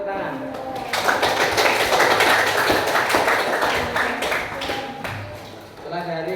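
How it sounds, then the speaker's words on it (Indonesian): Classmates applaud in a classroom learning session, with steady, dense clapping that holds for several seconds and then tapers. Voices talk underneath it. "Kasih tepuk tangan"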